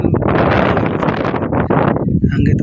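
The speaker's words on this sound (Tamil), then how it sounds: "மிகவும் காற்று," Strong wind buffets the microphone on an open road between Mullaitivu and Udaiyarkadu, a loud, continuous rushing roar with a voice speaking over it.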